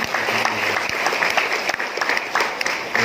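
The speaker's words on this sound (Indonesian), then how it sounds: "Kita aplaus dulu." An indoor audience at a civil-servant appointment ceremony applauds, with dense, continuous clapping at close range, loud and unbroken throughout with a few voices mixed in.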